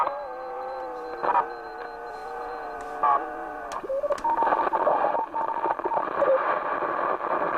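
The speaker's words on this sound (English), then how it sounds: "Can you hear the Morse?" Morse code received on a Grundig Satellit 6001 shortwave radio with an SSB unit, tuned on the 10 meter band; steady tone keying sits over hissing static, with warbling and crackle as the dial shifts.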